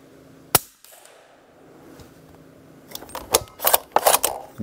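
A suppressed Q Mini Fix rifle fires military ammunition with hard primers at a target range: one sharp, muffled report, then a stretch of quiet and a burst of close mechanical clicks and clatter from handling the action.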